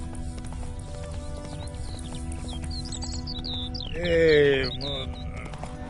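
Roach, a horse in The Witcher 3, gallops with steady hoof clops under game music, and someone briefly speaks over the hoofbeats before a louder swell near the end.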